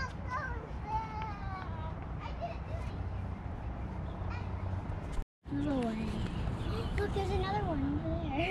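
Crows caw repeatedly outdoors in summer, harsh calls rising and falling across the scene while children's voices chatter underneath, with a brief gap of silence midway.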